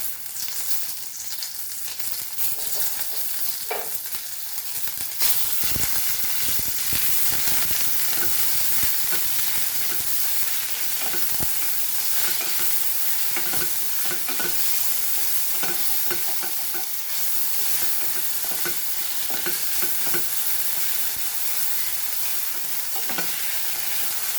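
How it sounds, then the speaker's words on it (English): Curry leaves, ginger and garlic fry in hot oil, giving a loud, continuous crackling sizzle that intensifies after a few seconds, with scattered stirring scrapes and no voices. "And fry this till the rawness is gone."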